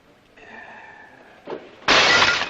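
A drinking glass smashes in a Western TV drama scene, a sudden bright shattering crash that follows a brief clink in an otherwise quiet room.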